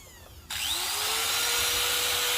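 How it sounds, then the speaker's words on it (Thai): A 4-inch angle grinder powered through a 12V-to-220V 3,000W inverter switches on suddenly and spins up to a loud, steady high-pitched whine, running continuously up close with no talking. "ลูกหมูสี่นิ้วนะคะ ตัวนี้"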